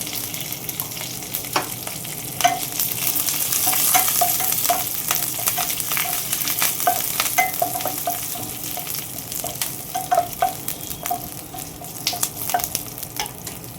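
Curry leaves and cumin seeds tempering in hot oil, sizzling and spitting up close with a busy crackle of popping bursts and stirring scrapes, no talking.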